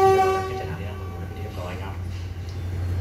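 Suburban train no. 367 at Hua Mak station in Thailand, heard as a steady low rumble under a sustained horn-like tone at the start, with a voice speaking over it throughout.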